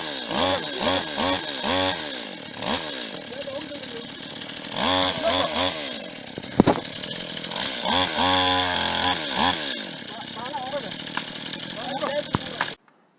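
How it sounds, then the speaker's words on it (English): A chainsaw used to cut down trees, revving in repeated bursts and then holding a long steady high whine, loud and close, with a sharp knock partway through before it cuts off abruptly. "With the help of the chainsaw"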